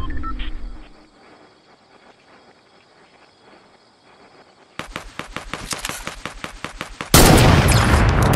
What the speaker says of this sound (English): Guy shooting at you down there.